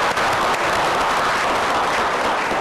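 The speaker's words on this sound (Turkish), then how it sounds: "Alkışlıyor." A studio audience claps steadily and densely at a 2008 ANS TV show, the dense clatter filling the whole short stretch at an even, fairly loud level.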